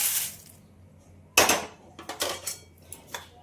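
Roasted poha tipped from a metal pan into a wide plate for chakli flour: a sharp metallic clank, then a run of lighter scraping clatters and rattles close by, with no talk.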